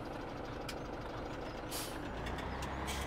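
Heavy trucks rumbling through town traffic in a farming game, a steady engine drone with brief hissing air-brake releases and faint beeping, continuous and moderately close with no voices.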